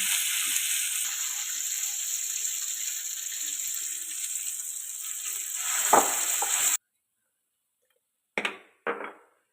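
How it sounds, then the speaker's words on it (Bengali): Mashed boiled pea filling for matar kachori cooking in a pan gives a steady soft sizzle for several seconds, then cuts out, followed by two brief scraping bursts near the end. "এবারে মটরশুঁটির পুরটাকে ভালো করে রান্না করে নিচ্ছে"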